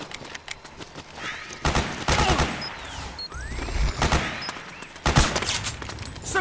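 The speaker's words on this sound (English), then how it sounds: "Suppressing fire!" Gunfire in the video game Metal Gear Solid 4, with loud bursts of automatic fire and scattered single shots over a busy battle background, with no talk in between.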